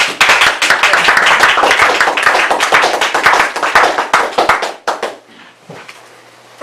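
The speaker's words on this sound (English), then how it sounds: "Clap." A Toastmasters meeting audience claps for the timer: a small group's brisk, distinct hand claps ring close and loud for about five seconds, then taper off abruptly into near quiet with a faint murmur.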